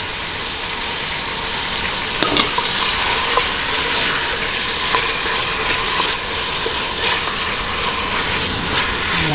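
Chicken breast strips fry in a pan with a steady, loud broadband sizzle, punctuated by scrapes and clinks of a utensil stirring the meat, no voices present.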